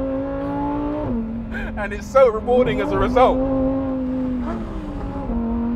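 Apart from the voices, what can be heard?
Lamborghini Huracan STO engine accelerating through gear shifts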